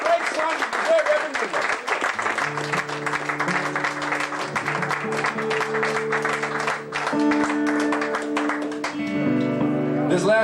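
A club audience applauds for a while after a blues set, the clapping soon blended with sustained, held musical tones from instruments that swell in and continue to the end.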